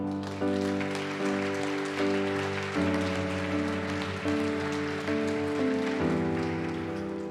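A church congregation applauding, a dense patter of clapping at moderate level under sustained organ or keyboard chords.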